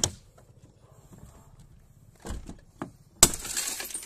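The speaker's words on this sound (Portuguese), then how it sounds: "Eita porra, quebrou o vidro agora." A woman swinging a hammer at a car: several sharp, hard impacts, the last a loud crack that bursts into a crunchy, sustained shattering of car window glass, with quiet background murmur between blows.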